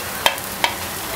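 Spices for sarson ka saag fry in a pan, stirred with two quick, close scraping clicks over a low sizzle.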